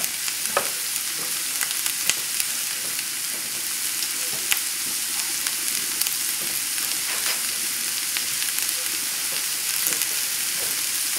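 Quinoa with tomato sauce sizzles in a pan over a high flame, a steady bright frying hiss with small crackles and pops scattered throughout.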